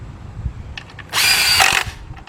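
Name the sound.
cordless nut driver tightening oil pan bolts with 13mm socket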